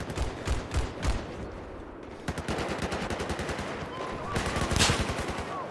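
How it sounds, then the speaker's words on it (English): Battlefield 4 multiplayer firefight: rapid bursts of automatic gunfire crackle in repeated volleys, some sharp and close, others more distant, with a heavy cluster of shots near the end and faint voices underneath. "I don't know where that fucking gunfire's coming from."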